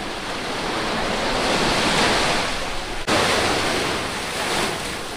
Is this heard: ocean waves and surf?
yes